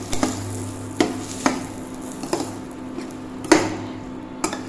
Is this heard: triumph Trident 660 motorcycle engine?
no